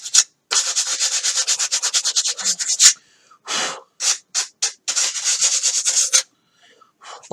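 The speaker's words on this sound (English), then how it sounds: "Balsa is so soft, don't sand too much." Someone sands the edge of a balsa wood wing on a quad pilot's flying-wing build, with close, rapid rhythmic rasping strokes in bursts separated by short pauses.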